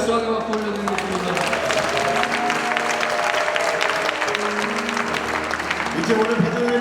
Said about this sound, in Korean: 오늘 받은 은혜를 하나님 앞에 기억하시면서 영광의 박수 올려드리겠습니다.